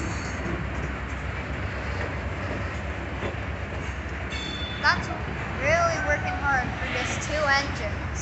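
Long Norfolk Southern or Union Pacific freight train with locomotives working hard up a long grade at Ludlow, a steady heavy rumble throughout, with people talking and some high squeals in the latter half.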